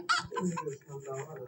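A video game chicken clucks briefly in a short burst of close, clipped cackles, lasting just over a second.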